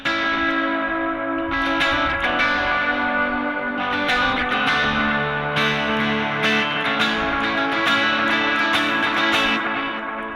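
Electric guitar run through stacked dotted eighth and quarter note delays on a worship pedalboard, a sustained wash of repeating echoes and reverb that stays loud and dense throughout.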